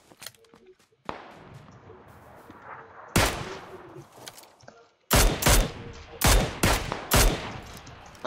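Gunfire in the PUBG battle royale game: a few scattered shots, then a cluster of loud, sharp bursts in quick succession, with faint talk between them.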